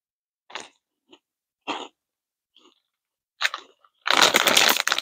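Someone chews crunchy spicy Thai shrimp snacks close up, giving several short, sharp crunches separated by pauses, then a denser, louder burst of crunching and chewing near the end.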